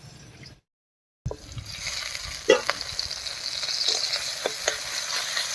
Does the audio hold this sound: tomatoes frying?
yes